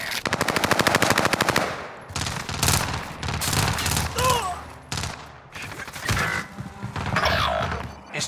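MP40 submachine gun fire in Call of Duty Warzone, a loud, rapid automatic stream of shots followed by several more sustained bursts with brief gaps, continuous and close throughout.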